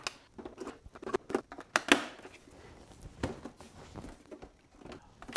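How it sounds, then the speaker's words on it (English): Batteries being fitted into a Jesse Dean Design X2RS crossfader unit with a PT-01 fader during installation: a close, quiet series of small clicks, taps and plastic rattles in irregular bursts. "I'm going to go ahead and put my batteries in"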